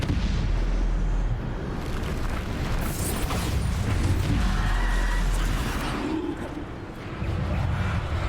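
Bombarda explosion spell cast in a Hogwarts Legacy battle, a loud booming blast and rumbling roar that holds for several seconds before fading, with chaotic combat clatter and no talk over it.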